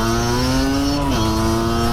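A motorcycle engine passes close by with a steady, loud hum whose pitch drops sharply as it goes past, with no one speaking.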